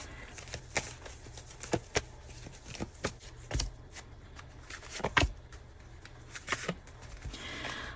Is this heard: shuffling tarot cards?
yes